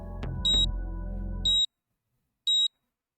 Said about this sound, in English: A tiny beeping sound caught Kano's attention.